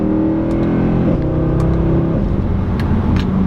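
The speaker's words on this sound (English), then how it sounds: "Has a really good sound on the harsh upshifts too." A 2014 Mercedes C63 AMG V8 growls loudly from close by under hard acceleration, its engine note holding and then dropping at a harsh upshift before pulling again, with faint clicks over the steady roar and no talk.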